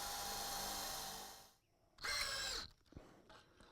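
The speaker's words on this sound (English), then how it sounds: "let's just see if my cordless can drill through this" A cordless drill whirs loudly drilling through bird netting material, stops, then spins up again in a short burst, followed by faint clicks and handling noises nearby.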